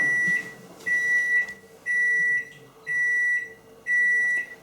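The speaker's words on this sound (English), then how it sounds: "So let's put it in the microwave and melt the butter." A microwave oven melting butter gives five short, loud electronic beeps in a steady rhythm, about one per second, close by with quiet gaps between them.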